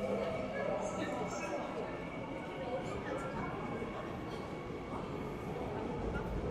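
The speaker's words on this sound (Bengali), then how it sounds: "ট্রেন এসে পড়ছে।" A Seoul subway train pulls into the station, its steady rumble and rolling noise filling the platform at moderate loudness throughout, with voices talking over it.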